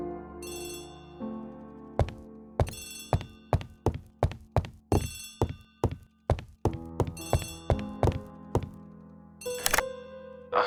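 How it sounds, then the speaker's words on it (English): Old-style telephone bell rings in bursts inside the Agatha Christie: The ABC Murders game, sharp repeated strikes over a sustained musical tone, with a final louder burst near the end. "Poirot, the telephone."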